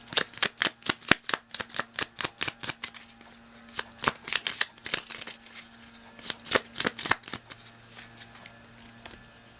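A deck of tarot cards is shuffled close up in a long run of quick riffling bursts with a steady rhythm and brief pauses, crisp and fairly loud.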